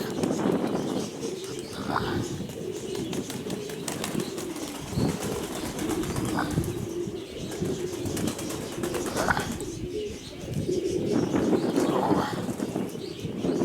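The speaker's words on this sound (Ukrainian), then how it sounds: "Оце такі от у нас виліти з голубятні происходять." Pigeons flush from a dovecote in strong wind, with a continuous rush of wind, bursts of wing flapping and faint cooing and chirps scattered through.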